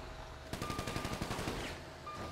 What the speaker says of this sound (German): Ja, musst aufpassen, die schießen dich tot.